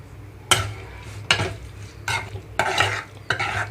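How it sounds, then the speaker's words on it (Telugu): A ridge gourd and ivy gourd chutney is stirred into a hot tempering pan, giving several sharp scraping strokes of a spoon against the metal over a low sizzle of frying. "ఇదంతా తాలింపు ఉన్న పాన్లోకి వేసేసుకుంటున్నాను నేను ఇప్పుడు."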